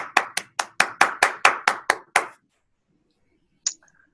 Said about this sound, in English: Round of applause for the demo.